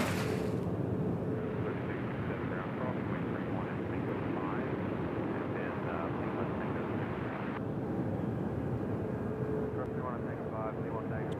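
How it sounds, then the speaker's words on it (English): A jet airliner lands on runway 2 right at Nashville International Airport, a loud, continuous broadband roar that holds for the whole stretch, with a voice talking over the engine noise. "We got a plane landing on 2 right coming in from Tampa."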